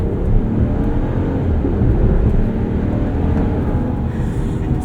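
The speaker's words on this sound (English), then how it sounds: "Let's get a little acceleration run in here." A 2025 RAM 1500 Crew Cab Laramie 4x4 pickup accelerates hard with a steady, loud low whir and drivetrain hum heard from inside the cab, with no talking over it.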